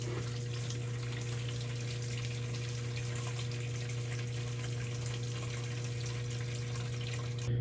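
Walnut sap running steadily through a filter into a pot, about four gallons, a continuous close watery trickle and gush over a low steady hum.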